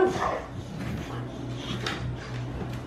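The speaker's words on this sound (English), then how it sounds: "What are you barking at?" Dog barks a few soft, muffled times indoors at a distance, low and faint amid room noise.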